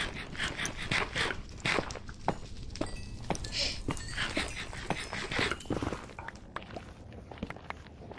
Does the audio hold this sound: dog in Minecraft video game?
yes